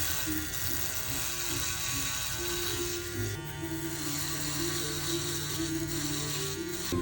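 A play electric shaver from a barber tool set runs behind a barber chair, giving a steady, close mechanical buzz with a whirring hum that holds for several seconds with little variation.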